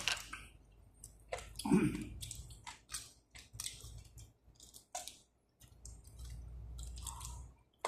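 People chew food over dinner, with close, wet intermittent mastication and squishy bites broken by pauses, a voice briefly murmuring in between.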